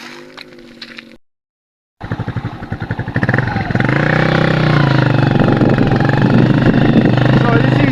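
Motorcycle ridden in first and second gear along a rough, potholed, waterlogged Zambian village road after rain; engine starts after a brief silence, then drones loud and steady throughout.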